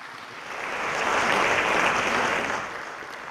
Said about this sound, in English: So please proffer a round of thunderous applause.